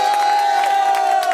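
An audience at a disability challenge event at an aquatic centre cheers and applauds the lifeguards, a dense, steady crowd roar with a sustained high tone running through it.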